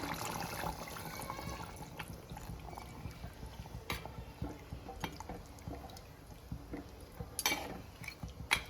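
Coconut milk poured into a simmering chicken gravy in a home kitchen, a soft continuous liquid trickle with gentle splashes and a couple of sharper utensil clinks near the end.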